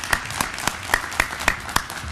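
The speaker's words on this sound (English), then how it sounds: "let's give her another round of applause" A university event audience applauds a speaker who shared her story; distinct, regularly spaced claps ring out close and clear over a background of lighter clapping.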